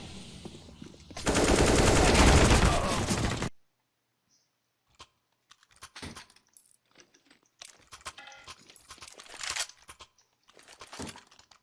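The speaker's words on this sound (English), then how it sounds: "I'm throwing a grenade. Throwing a flashbang." A grenade and flashbang thrown in a first-person shooter game: one loud, harsh two-second blast, then near silence broken by small scattered clicks and rattles.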